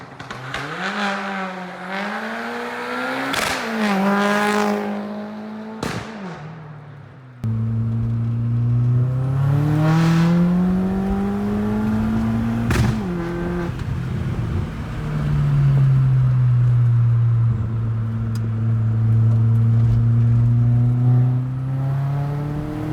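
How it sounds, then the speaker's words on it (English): A 2002 Volkswagen Turbo S Beetle with a six-speed manual on a test drive, its engine revving up and dropping back through repeated gear changes, loud and close from inside, with rising and falling engine tones and no talk. "Well, time to go take it for a test drive."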